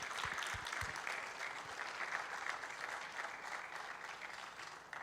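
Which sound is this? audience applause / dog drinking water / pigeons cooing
audience applause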